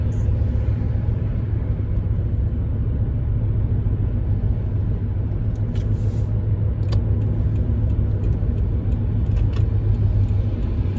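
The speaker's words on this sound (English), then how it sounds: "There's a FedEx truck." A FedEx delivery truck passing on a street, heard as a steady, close engine rumble with road noise that holds evenly throughout.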